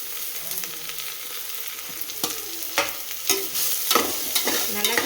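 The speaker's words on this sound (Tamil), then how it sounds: "சின்ன வெங்காயம் பச்சை மிளகாய் எல்லாம் நல்லா வணங்கிட்டுங்க. இனி பீக்கங்காய் போட்டுக்கலாங்க." Shallots, green chilies and ridge gourd fry in a hot pan, a steady broadband sizzle broken by several sharp scraping stirs of a spatula, close and moderately loud with no voices.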